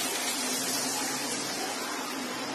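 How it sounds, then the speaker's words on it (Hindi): Water pours steadily into a cooking pan of paneer gravy seasoned with chili powder and salt, a continuous close gushing splash with no talk. "अब मैं इसमें पानी डाल दूँ।"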